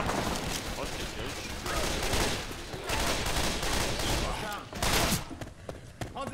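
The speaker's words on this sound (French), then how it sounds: "Et j'ai pas de lampe torche, alors j'utilise mes flingues." Dense, continuous gunfire from the video game Left 4 Dead 2, with rapid overlapping shots and bursts in a fight against crowds of infected in a swamp level. It stays loud throughout, with a brief dip near the end before it resumes.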